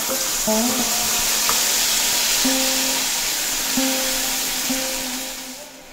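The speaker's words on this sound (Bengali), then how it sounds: "ফোড়ন খুব ভালোভাবে হয়ে গেলে এড করে দেব বেটে রাখা মশলা।" Ground spice paste frying in oil with whole cumin for a cauliflower dish, a loud steady sizzle with faint scraping stir strokes, close up, easing slightly near the end.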